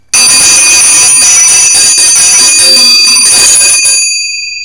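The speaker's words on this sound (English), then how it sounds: "I ring my two favorite bells for your birthday." Two bells ring loud and close together, their bright tones sounding for about four seconds before the ringing cuts off abruptly and a faint tail fades away.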